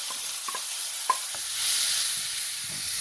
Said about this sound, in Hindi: चलिए अब इसको अच्छी तरह भूनती हूँ